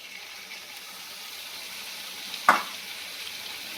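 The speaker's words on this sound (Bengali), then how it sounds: "এই যে পোস্ত বেটে রেখেছি, এই পোস্ত এর মধ্যে দিয়ে দেবো।" Ground poppy seed paste goes into a pan for Bengali gourd posto with chicken curry, a steady, moderate frying sizzle interrupted once by a short, sharp clatter from the pan.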